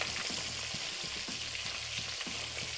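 Flour frying in oil alongside meatballs in a pan as the base for a tomato sauce, a steady close sizzle with soft periodic stirring scrapes throughout.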